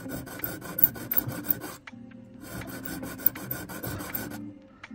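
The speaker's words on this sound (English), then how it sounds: "Essentially just filing a little V notch into the piece." A square needle file rasps a small V notch into a metal ring being resized: quick, even back-and-forth strokes, close and alone, pausing briefly before resuming.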